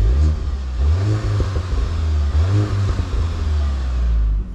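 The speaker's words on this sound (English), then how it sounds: "listen to the engine noise." A 2022 VW MK8 GTI four-cylinder engine revs up and settles back twice, its deep, smooth drone climbing and falling close by with no talking.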